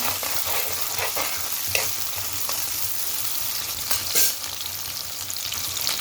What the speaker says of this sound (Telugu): ఆయిల్ హీట్ ఎక్కింది. ఇప్పుడు ఇదిగో ఆనియన్స్ వేసుకున్నాను.